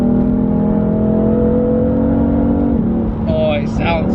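BMW F80 M3 with the standard exhaust pulling away under acceleration, a loud steady engine drone that drops off near the end, followed by brief voices.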